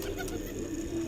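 A reddish pigeon coos in a low, steady murmur, close and continuous throughout, with no voices over it.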